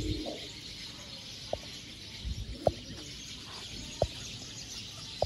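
Ferozpuri breeder pigeons coo softly in a loft, low murmuring calls with a few sharp clicks and taps scattered through, faint and fairly distant.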